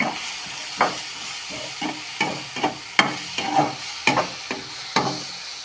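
Spice powders frying in hot oil for potato kurma, stirred with a spoon that scrapes the pan in repeated irregular strokes over a soft continuous sizzle, close and alone without voices.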